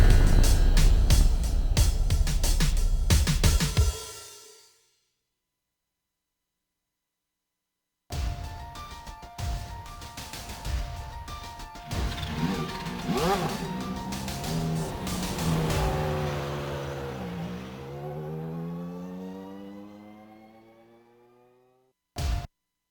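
Classic Lotus Grand Prix race cars at Silverstone Circuit in iRacing: a loud engine roar for several seconds cuts to silence, then returns as a sustained, wavering whine whose pitch rises and falls through gear changes before a brief final burst.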